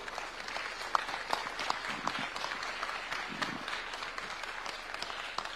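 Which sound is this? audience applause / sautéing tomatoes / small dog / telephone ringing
audience applause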